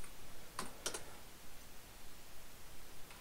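A few quick keystrokes on a computer keyboard while a command is entered on an Ubuntu Touch device, two short bursts of clicks near the start and a faint tap at the end, over quiet room hiss.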